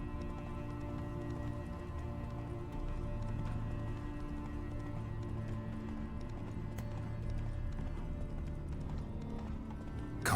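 Roach, the horse in The Witcher 3, runs with steady clip-clopping hooves under a continuous low rumble of game ambience, the hoofbeats moderately loud and unbroken throughout.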